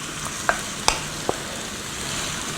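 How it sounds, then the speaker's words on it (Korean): Beef stir-fried in a pot for a seaweed soup with mugwort rice dumplings gives a steady, soft sizzle, broken by three sharp clicks from a utensil against the pot. "요 정도 쇠고기 넣고 볶으면 한 4인 기준 나와요"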